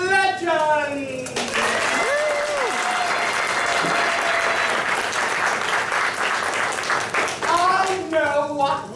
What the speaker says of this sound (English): Let's have a round of applause for the heroes of legend!